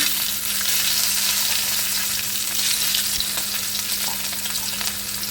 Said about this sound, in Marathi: फोडणी होती आहे थोडासा आता हिंग त्यानंतर मिरची लसूण